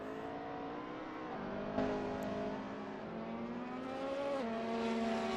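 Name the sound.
race car engines in racing video game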